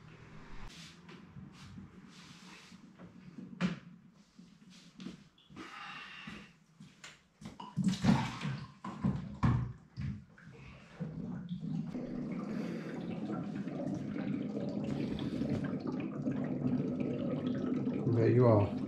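A water vending machine fills an upturned 19-litre bottle in Cyprus. After some handling knocks and clatter, a steady rushing pour sets in and grows gradually louder and fuller until the end.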